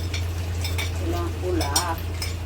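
Red chili goes into hot oil for Bicol express, giving a steady low sizzle with a spoon stirring and a few light clinks against the pan.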